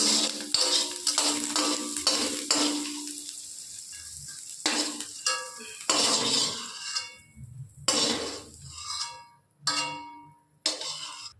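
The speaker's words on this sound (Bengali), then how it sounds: "তো আমরা এটা হালকা করে ভেজে নিচ্ছি" Vegetables for mixed fried rice are lightly fried in a pan, making a soft sizzle with repeated stirring scrapes and clinks in uneven bursts and short quiet gaps.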